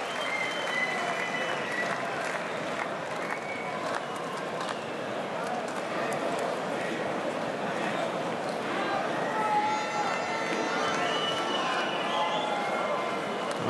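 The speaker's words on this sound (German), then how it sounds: "kurzer, etwas verhaltener Jubel auch hier in der ausverkauften Arena" A crowd in a sold-out boxing arena cheers and applauds after a knockout, a dense sustained wash of clapping and shouting, with a commentator talking over it.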